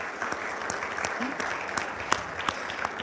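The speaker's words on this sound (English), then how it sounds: "Please clap for yourselves again." Audience at a Nigerian leadership event claps for themselves, a lively crackling applause with sharp individual claps standing out, steady and fairly close for about three seconds.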